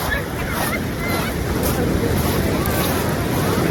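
Ocean surf near a pier rolls in as a continuous loud wash blended with heavy wind buffeting the microphone, with no distinct individual wave breaks standing out.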